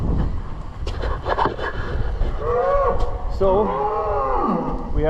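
Heifers being brought into a farm yard let out drawn-out moos in the second half, following scraping and clattering noises, heard fairly close with outdoor background rumble.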